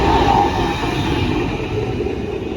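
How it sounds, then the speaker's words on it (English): A tram rumbles past nearby in Budapest, Hungary, with a steady rolling roar and faint wheel clatter, no voices heard. "Here's the beautiful tram."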